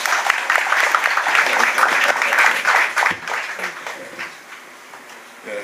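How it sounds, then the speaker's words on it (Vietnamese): A warm round of applause from an audience at a ninetieth-birthday celebration in Ho Chi Minh City, fairly loud at first, then thinning out and tapering off. "chúng ta hãy cùng dành một tràng pháo tay thật là ấm áp"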